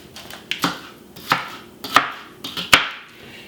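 Celery being chopped in a food processor, with about five sharp, evenly spaced chopping bursts close by and no talk.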